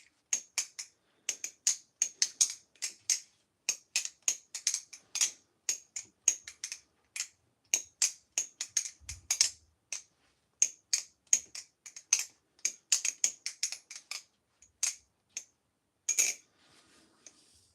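A Flytanium balisong knife is flipped, producing quick, crisp metallic clicks and clacks in irregular rhythmic bursts, close and clear against near silence.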